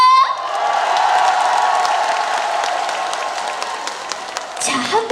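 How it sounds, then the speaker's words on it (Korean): Festival crowd at the Namhae garlic and hanwoo beef festival applauds and cheers in a sustained, loud roar of clapping and shouts, ending as a voice speaks over a microphone. "다 같이 박수와 함성!"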